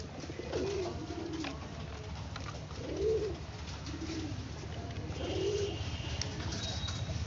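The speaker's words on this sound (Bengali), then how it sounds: "এটা বাংলাদেশের রাজশাহী পায়রা" Rajshahi pigeons from Bangladesh coo while feeding at their eating spot, soft throaty calls repeating about four times over a steady background hum, with faint chirps later.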